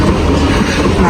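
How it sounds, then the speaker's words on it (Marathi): A train pulls into Sandhurst Road station, a loud, steady rumble of wheels and station noise filling the whole moment with no clear break. "ट्रेन आलेली आहे मित्रांनो."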